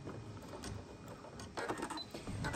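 A domestic sewing machine stitching bias tape around tight curves, a faint, steady mechanical whir with needle clatter that quickens slightly toward the end.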